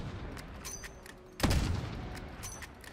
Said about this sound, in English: Now I'm gonna normally shoot the HDR.